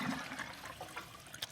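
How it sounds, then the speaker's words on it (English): Water runs from an IBC tote through an open valve into a pump on an off-grid water cart, a faint, steady trickling flow heard alone for a moment. "We got to put some water in the pump to help it catch its prime"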